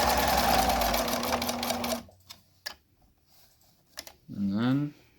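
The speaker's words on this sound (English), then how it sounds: "And then you sew back. And then you sew forward." A sewing machine runs in a short, loud burst while stitching a fabric mask, followed by quiet clicks and handling as the direction changes, then a voice speaks briefly.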